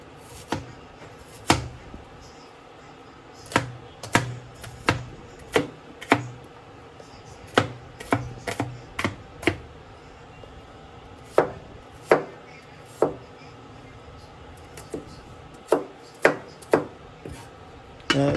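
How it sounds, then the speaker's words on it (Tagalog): A knife chops an onion on a cutting board in a kitchen, with sharp distinct thuds in uneven clusters across the whole stretch, close and clear with no talking. "Tara, hatiin natin tong sibuyas."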